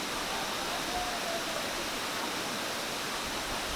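Brinda waterfall near Jhumri Telaiya in Koderma, Jharkhand, pours as a steady, dense broadband roar with no break and no voices over it.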